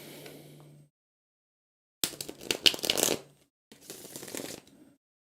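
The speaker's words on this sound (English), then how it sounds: "Pull you guys one more card." A tarot deck handled in a card reading, with two bursts of crisp papery card riffling and sliding close by after a faint, brief opening murmur.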